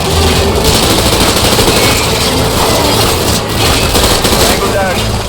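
Dense, continuous automatic gunfire from a Call of Duty Modern Warfare (2022) battle, loud and relentless with overlapping bursts over a low engine rumble, while voices shout in the thick of the firefight.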